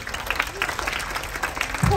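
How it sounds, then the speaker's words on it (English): A live children's audience at a school poetry event claps after a prompt, a scattered, moderate patter of hands mixed with a speaking voice and some room noise. "Give them a big clap, everybody."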